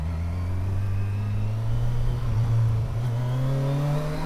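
An adventure motorcycle accelerating hard with traction control intervening, its engine note climbing steadily and loudly in a continuous rising drone, close and alone.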